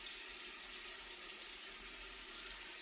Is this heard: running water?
yes